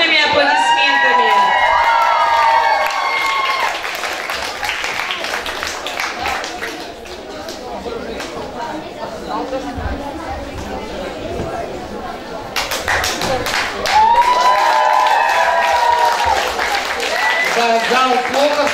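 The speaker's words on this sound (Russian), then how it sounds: "Встречаем бурными аплодисментами." Audience in a camp concert hall applauds and cheers at a children's show contest, with crowd noise and shouting swelling loudly, dipping in the middle, then rising again alongside loud voices over a sound system.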